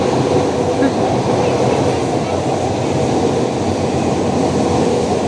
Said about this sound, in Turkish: Tren sesi duyuyorsunuz.